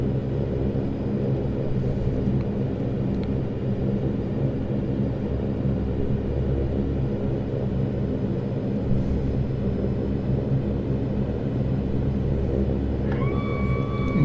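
Saab 340 turboprop engines idle while taxiing in the X-Plane 11 flight simulator, a steady, even drone with a low rumble holding throughout, and a brief higher-pitched tone near the end.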